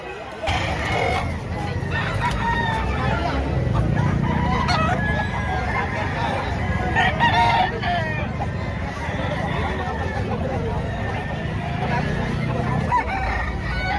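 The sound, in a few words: chickens and roosters crowing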